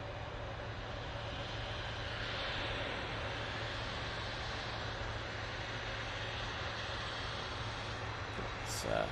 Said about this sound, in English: There's one of those epic GE90s.